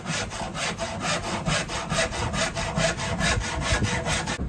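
A hand saw cuts through an OSB board to trim its angle, with quick, regular back-and-forth strokes, close and loud, running steadily for a few seconds before stopping.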